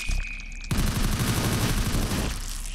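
Rapid gunfire in an SCP facility video game erupts suddenly after a short quieter moment, a loud, dense burst of automatic shots that continues for about two seconds.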